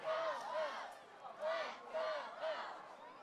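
A high school football stadium crowd at night, rhythmic group chanting in repeated pulses about once a second, moderately distant and under no other sound.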